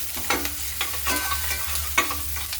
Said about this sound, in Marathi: कट केलेला कांदा घालू. कांदा आपल्याला सोनेरी रंगावर परतून घ्यायचा.